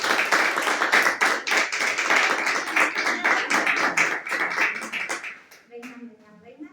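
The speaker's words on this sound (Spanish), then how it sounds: "retorno el fuerte aplauso para los chicos del tercero" Applause for third-grade schoolchildren, a crowd clapping densely and loudly for about five seconds, then fading as a voice begins speaking.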